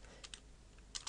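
A computer keyboard is typed on in a few quiet, close key clicks, two near the start and a quick pair near the end, with no talking over them.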